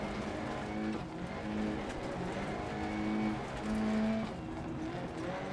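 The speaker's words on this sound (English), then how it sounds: "I decided to do a massive shift down into second, because engine braking actually does really help out" A rally car engine drones loudly and steadily through a downshift into second gear on a DiRT Rally 2.0 stage, engine-braking with a rising and falling tone that fills the scene continuously.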